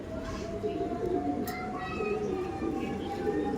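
A male pigeon coos softly amid other birds near a loft, a low continuous murmur with a faint steady tone behind it and light background noise.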